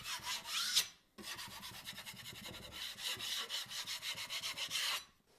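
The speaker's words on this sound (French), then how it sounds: "Vieux couteau, pareil, 10 cm de large, je vais égrener, casser" An old 10 cm filling knife scrapes plaster filler smooth over a patched hole-saw hole in drywall: rapid, rasping strokes close up, running steadily with two short pauses.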